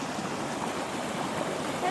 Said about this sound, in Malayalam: ഈ പുഴയുടെ മനോഹരമായ ഒഴുക്കിൽ അതിൻ്റെ ശബ്ദമൊക്കെ കേൾക്കുന്നതുകൊണ്ടാട്ടോ